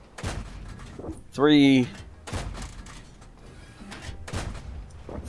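Tank gunfire from a T71 in World of Tanks, with one loud, sharp cannon shot and its ringing report. Someone talks over the game sounds throughout.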